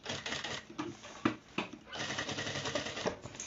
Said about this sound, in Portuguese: vou costurar essa parte aqui do 4x1